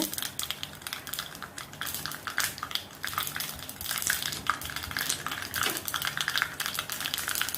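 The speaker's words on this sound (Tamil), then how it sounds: "கடுகு நல்லா வெடிக்க ஆரம்பிச்சிருச்சு." Mustard seeds pop in hot oil with rapid, irregular crackles, a dense spattering that grows busier toward the end.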